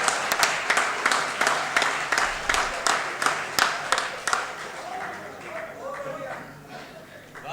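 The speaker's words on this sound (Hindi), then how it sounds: "एक बार खुल के तालियां बजा दो जरा जोरदार।" Enthusiastic audience applause with rhythmic clapping in a large room at a Haryanvi comedy poetry show, gradually fading out toward the end.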